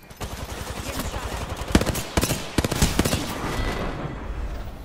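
Gunfire aimed at the player in Apex Legends, a video game. A rapid, close automatic burst comes first, then several loud separate shots, and the firing ends as a quieter tail.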